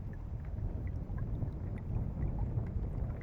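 A Dragonforce 65 radio-controlled sailboat under sail on open water, with a steady low rush of water and wind noise around the hull and no voices.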